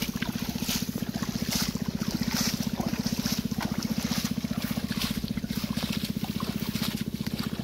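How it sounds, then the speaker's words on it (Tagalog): A water pump drones steadily while watering cucumber plants in a field at midday, a low throbbing engine pulse with wind gusting over the microphone. "Nagwa water pump po tayo para sa ating pipino."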